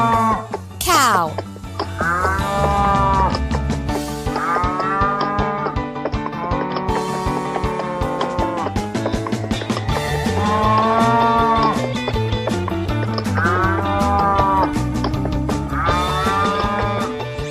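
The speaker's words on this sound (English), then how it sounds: "Cow." A cow moos repeatedly, each call loud and close, set within a busy musical backing with a voice announcing animals, the drawn-out lowing rising and falling several times.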